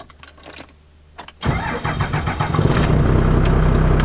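A 12-valve Cummins diesel in a second-generation truck cranks and fires, then settles into a loud, rough, steady running clatter after a quiet opening.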